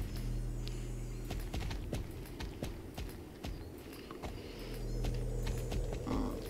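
A Mustang horse in a video game trots along with a steady clip-clop of hooves, fairly quiet against a low rumbling background with occasional louder hoof strikes.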